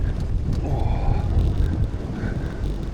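Wind roars into the microphone during an outdoor bicycle ride near Richebourg, a loud steady buffeting rush that swells and fades.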